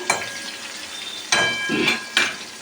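Spiny gourd (kakrol) frying in a pan, heard as a steady close sizzle with three sharper bursts as pieces are stirred or turned, along with faint clinks of utensils against the pan.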